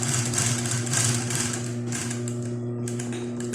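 Post-bed sewing machine stitching a seam with size 46 thread, a loud continuous mechanical whir with a rapid needle chatter and steady low motor hum, briefly slowing near the end, no speech.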